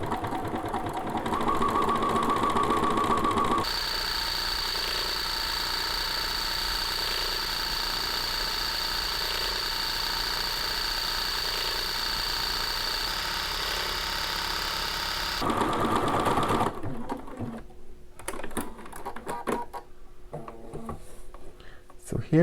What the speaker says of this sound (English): this new stitch 601 is going to stitch right along the edge